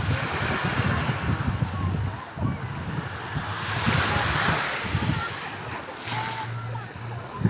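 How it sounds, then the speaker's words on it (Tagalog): Strong surf rolls and crashes onto a beach at Bagac, Bataan, with a steady roar that swells and eases under gusty wind buffeting the microphone, and faint voices in the background. "Malakas kasi ang alon, eh."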